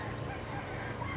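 Goose-like honking from white birds landing nearby, a steady rough low-pitched call over outdoor background noise with no talking.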